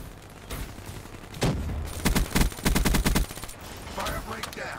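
Gunfire in Black Ops 3, a burst of rapid, sharp shots in quick succession, preceded and followed by scattered single blasts, loud and close, with a voice faintly present.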